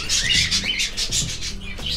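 Budgerigars chirp and warble rapidly up close, a busy, continuous stream of high bright tweets with no talking.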